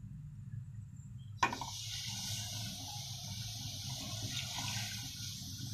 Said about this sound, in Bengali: তো এই প্যানের মধ্যে কিছুটা পানি দিয়ে দেব।